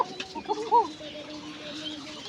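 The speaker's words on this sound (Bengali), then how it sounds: "কোকার ডাকটা দেখেন" A female koka pigeon calls in a short burst of cooing notes amid other pigeons and fowl sounds at a loft, moderately close over steady background bird noise.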